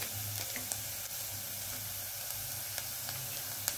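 Paneer masala ingredients sizzle steadily while sautéing in a pan, a continuous close frying hiss with faint crackles throughout and no talk.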